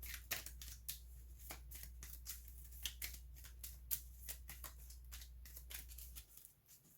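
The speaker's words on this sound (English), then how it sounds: "So shuffle player 1's deck." A deck of game cards for the Legendary Marvel deck-building game being shuffled by hand, a quick series of crisp riffling snaps and slides, close and quiet over a low steady hum.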